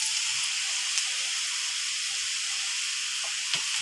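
Chopped pumpkin greens and Malabar spinach sizzle in a hot pan for a mixed-vegetable chorchori, giving a continuous bright, even hiss with a faint pop or two, close and alone.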